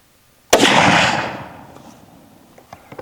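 A single 450 Bushmaster rifle firing a 225gr FTX load cracks loudly and abruptly, its blast rolling off and decaying over about a second, followed by a few faint clicks and knocks.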